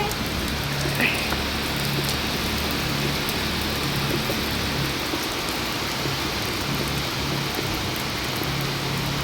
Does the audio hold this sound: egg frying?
no